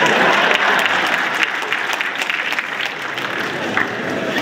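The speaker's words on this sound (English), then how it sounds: "you can clap if you wish" An audience applauds during a speech at Harvard Business School, a dense, steady wash of many hands clapping that stays fairly loud throughout without pause.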